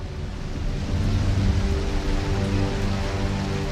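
Steady rainfall pouring from the sky, a dense, even hiss of drops on surfaces that holds constant throughout without pauses or voices.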